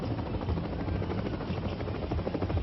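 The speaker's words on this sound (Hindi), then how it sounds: "सिक्किम के गैंगटॉक में हर घर तिरंगा अभियान के तहत तिरंगा यात्रा पर हेलीकॉप्टर से फूल बरसाए गए।" Helicopter flying over Gangtok, Sikkim, showering flowers on a Har Ghar Tiranga flag march; a steady, loud rotor drone and engine roar sustained throughout, no voices.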